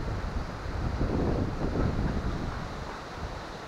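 Steady, roaring typhoon wind blasting across the microphone, a broad rushing noise that swells slightly in the middle and stays loud throughout, with no voices.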